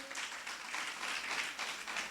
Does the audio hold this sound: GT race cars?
no